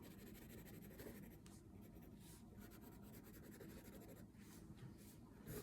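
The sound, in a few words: crayon coloring on paper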